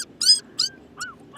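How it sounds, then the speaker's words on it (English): A puppy whimpers in three or four thin, high whines with quick rising and falling pitch, close and fairly clear over a quiet background hum, with no talk. "Hey, don't be hurting my puppy, Eddie."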